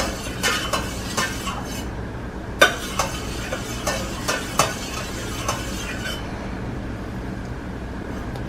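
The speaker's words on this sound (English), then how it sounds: "then you stir the contents" A spoon stirring the contents of a roughly one-liter yogurt maker pot, a series of scraping clinks and taps over several seconds, close and clear, then fading into a steady low background.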